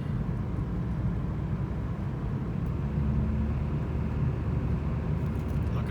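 A 2012 Nissan Altima Coupe 2.5 S heard from inside while driving, a steady low engine and road rumble with constant tire noise, no voices.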